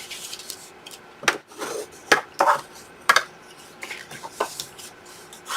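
Paper fold lines being burnished by hand: irregular close scraping and rubbing strokes with several sharper taps and swipes, fairly quiet and alone.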